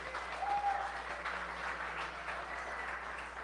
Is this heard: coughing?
no